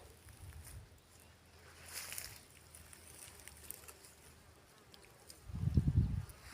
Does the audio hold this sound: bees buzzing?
yes